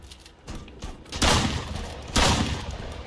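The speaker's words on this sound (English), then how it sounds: "As we shoot back here, big shootout." Gunfire in a police shootout video game, with dense bursts of shots and two heavy volleys around the middle and end, loud and continuous, no talk.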